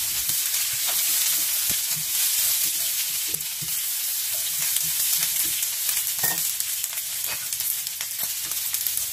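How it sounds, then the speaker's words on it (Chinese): Pork ribs are stir-fried in a hot wok, giving a dense, continuous sizzle with scattered spatula clicks and scrapes throughout, close up. "放入排骨一起煸炒"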